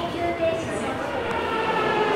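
Steady low rumble of the Narita Express train in Japan with a faint high whine, heard from nearby, no talking.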